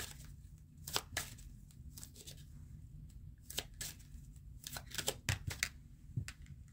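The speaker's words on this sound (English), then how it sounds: "I do my shuffling in the upright" Tarot cards being shuffled upright, a run of quick papery riffles and taps at irregular intervals over a low steady room hum, close and fairly quiet, with no talking.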